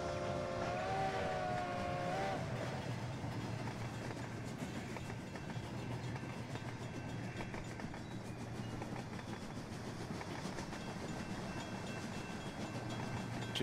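A train in the Rolling Line game rolls steadily on rails with a continuous rumbling clatter and a brief whistle-like tone near the start.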